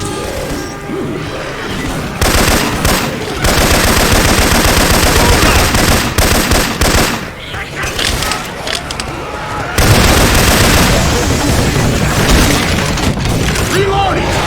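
Syphon Filter weapon sounds in Left 4 Dead 2, loud sustained machine-gun bursts and booming impacts in rapid succession, with game voices talking over the chaotic firefight.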